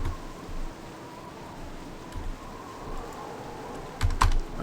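Computer keyboard typing runs steadily through a Baldur's Gate: Enhanced Edition gaming session, soft close clicks under a low background hiss, with a louder burst of keystrokes near the end.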